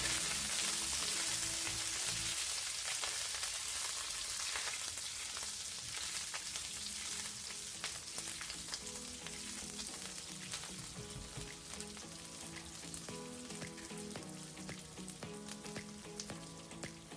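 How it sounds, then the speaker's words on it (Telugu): Curry leaves and green chillies sizzle in hot oil in a pan, a steady crackling fry that carries on throughout with no talk. "కరివేపాకు వీటిని కొంచెం ఫ్రై అవ్వనిద్దాం"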